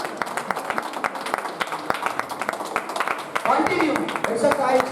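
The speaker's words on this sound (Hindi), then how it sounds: "चलिए तालियां बजती रहनी चाहिए, जोरदार तालियां और जोरदार तालियां।" Many audience members at a motivational seminar in Varanasi clap sharply and quickly, distinct claps close by, and voices rise and mix with the clapping toward the end.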